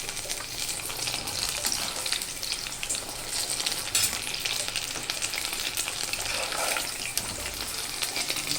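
Food frying in a pan, with a loud continuous sizzle and crackle close to the listener. Occasional stirring scrapes and bursts of hissing come through, and faint speech can be heard at times.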